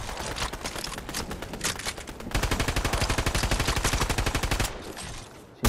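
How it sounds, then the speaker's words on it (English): Rapid gunfire rattles in the video game Fortnite, bursts of fast repeated shots followed by a steady evenly spaced volley lasting a few seconds, then a sharp louder shot at the end. "There's more gunfire coming up from the west"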